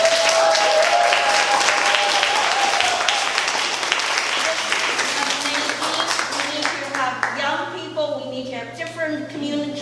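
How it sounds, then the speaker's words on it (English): Audience at a storytelling open mic in a museum applauding itself, a dense, loud round of clapping that fills the room and fades toward the end as voices and chatter rise over it. "Can we give ourselves a round of applause?"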